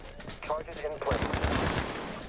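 Gunfire in the mobile game Battlefield Mobile, a rapid burst of shots after a brief lead-in, dense and sustained, heard through game audio.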